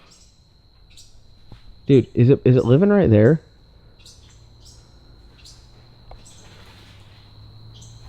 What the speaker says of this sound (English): there's a bird in here and it's pissing me off.